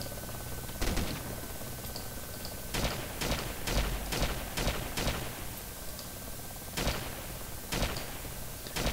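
Rapid bursts of gunfire in a bank-robbery shooter game, several sharp volleys spaced across the clip over a steady background hum, fairly close and loud.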